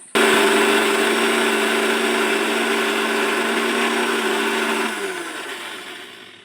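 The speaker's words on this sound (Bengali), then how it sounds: "এই মিক্সিং জারে করে আমি মিক্সি করে নেব" A mixer grinder jar grinds a thick paste made without added water. The motor is loud and steady from the start, then slows and winds down near the end.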